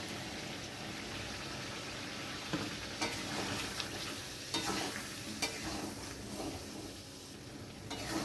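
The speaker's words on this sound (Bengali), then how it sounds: "আবারও মশলাটা আমি ভালোভাবে কষিয়ে নেব" Spice paste of cashew, raisins, melon seeds and ginger sautéing in a pan with partly boiled potatoes, a dense, steady sizzle with periodic scraping stirs, close and continuous, no voices.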